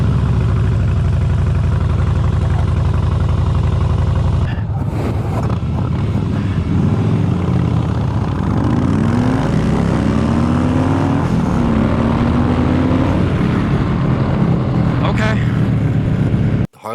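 A 2013 Harley-Davidson Softail Slim with a 103 cubic inch twin cam engine fires up and settles into a loud, steady rumbling idle, with a brief burst of revving partway through.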